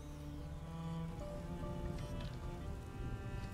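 Steady rain falls in A Plague Tale: Innocence, a soft continuous patter mixed with low droning tones from the game's ambience, faint and even throughout with no speech.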